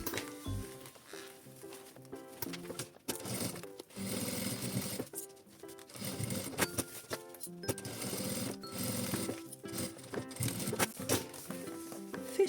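A sewing machine stitches closed the two sides of a children's school thermal bag, its motor running in quick rattling bursts broken by brief stops, close and fairly quiet.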